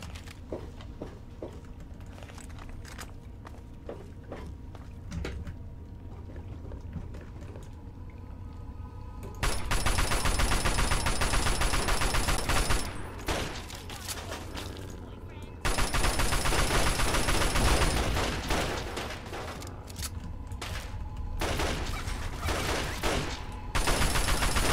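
Gunfire in Fallout 3 comes in two loud dense bursts of rapid shots, each lasting a few seconds, separated by quieter stretches of ambient noise and scattered clicks.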